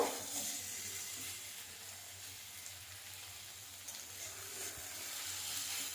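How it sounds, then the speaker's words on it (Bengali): Chopped small tomato frying with onions and spices in a pan, giving a soft, steady hiss of sizzling oil that stays fairly quiet and even throughout, with no one speaking. "এটাও ভেজে নেব"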